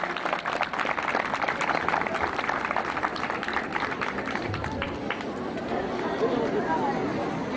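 Crowd applause for the mayor Osman Bey at an evening gathering in İznik, a thick sustained clatter of many hands that carries on throughout and eases slightly toward the end, with some chatter beneath.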